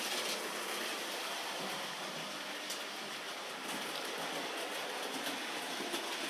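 Sound-fitted model railway train rolling over double slip points, a continuous rumbling run with faint rhythmic clicks, fairly close and steady with no talk.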